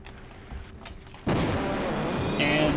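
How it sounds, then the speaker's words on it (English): The Egon gun firing in Half-Life switches on as a sudden loud, sustained roaring beam, steady for over a second after a quieter stretch of game ambience. "I usually just take out the Egon gun"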